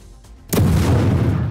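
An explosion rips through a Hamas weapons storage depot, a sudden loud boom after quieter rumble, followed by a sustained roaring, crackling blast wash.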